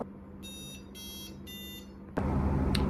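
An electronic device beeps repeatedly in three evenly spaced bursts of high, thin tones over a low steady hum, with a louder broadband noise taking over near the end.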